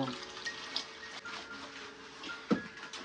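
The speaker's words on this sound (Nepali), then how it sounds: "म अब यसमा यो पानी तर्याएर यसमा हाल्छु" Water is poured from a container over greens and seasoning for kimchi, a soft continuous splashing hiss close by with a brief louder splash near the end and no talk.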